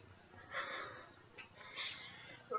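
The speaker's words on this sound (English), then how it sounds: "You're panting heavily." Heavy panting comes in a few faint, breathy rasps, close to the microphone, with short pauses between the breaths.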